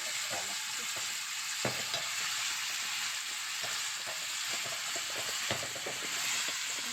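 Moong dal going into a hot pan sizzles steadily at close range, a continuous soft frying hiss broken by occasional stirring scrapes and taps.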